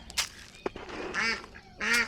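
Farm ducks near a rooster at feeding time give a few loud, nasal honking quacks in short separate bursts, close by, with no talk.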